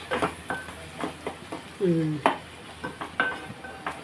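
Tomato curry cooking in oil in a pan gives intermittent stirring clatter and scraping over a faint sizzle, with a voice speaking briefly partway through.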